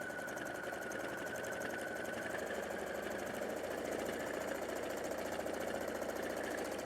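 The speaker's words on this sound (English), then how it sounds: "let's do a little bit of free motion quilting" A domestic sewing machine runs steadily during free motion quilting, dark thread on light fabric, a continuous close mechanical whir with rapid needle chatter throughout.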